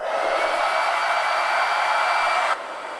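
A hair dryer blows steadily on stained wood shiplap board, a loud continuous whooshing hum that drops abruptly to a lower setting near the end.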